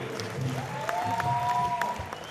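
An audience at a company anniversary celebration in Bengaluru claps together with a moderate, even patter and a few sharper claps, while a faint tonal sound rises in the background.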